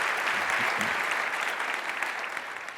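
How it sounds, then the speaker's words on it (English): Welcoming applause from a lecture audience for three panelists at a talk on understanding Islam forms a dense, even roar of clapping that holds steady, then gradually fades toward the end. "Please join me in giving a welcoming round of applause to our three panelists"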